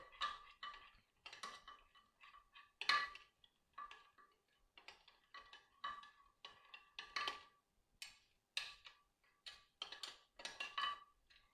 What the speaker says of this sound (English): Now you just mix the ingredient together.